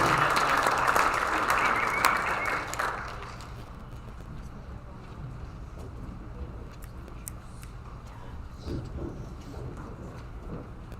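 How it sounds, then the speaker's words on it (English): Audience applause at a high school academic awards ceremony, a loud burst of clapping for the first three seconds that then fades into quieter room murmur and scattered sounds. "let's give them all a round of applause"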